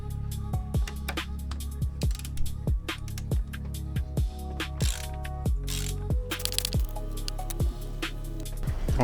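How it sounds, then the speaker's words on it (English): A ratchet fitted with a 27 socket turns during a car oil change, making steady rhythmic clicking strokes with short pauses between each run, close and fairly quiet. "Ratchet."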